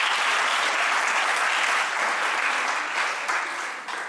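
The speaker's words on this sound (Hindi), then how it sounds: "एक बार जोरदार तालियां तो बजा दो भाई" A college fest audience at DAV PG College in Varanasi claps loudly and continuously, a thick, even wash of applause that tapers slightly at the end.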